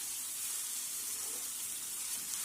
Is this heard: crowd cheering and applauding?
no